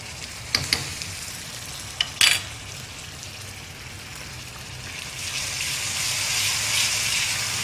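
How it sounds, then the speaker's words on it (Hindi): Onions fry in a pot with ginger-garlic paste for chana daal. A few clattering knocks come first, then a soft sizzle that builds into a steady, louder frying hiss. "बस प्याज को हमने ब्राउन करना है, ठीक है। प्याज ब्राउन होने का इंतज़ार करेंगे।"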